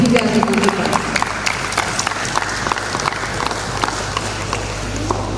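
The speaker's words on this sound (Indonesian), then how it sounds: "Tepuk tangan yang meriah untuk ketiga regu kita." Audience clapping for three competing teams at a Qur'an quiz contest during a provincial MTQ event, a steady wash of applause with scattered sharp claps and crowd noise throughout.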